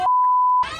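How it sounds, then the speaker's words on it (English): A single steady censor beep masks a curse word, a loud pure tone of about half a second cutting between bits of speech. "Even with blurred faces and beeped out curse words"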